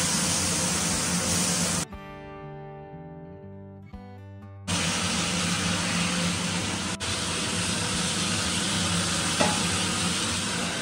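Potatoes frying in a pan at home give a loud, continuous sizzle with stirring, broken by a short stretch of tonal noise before the frying returns.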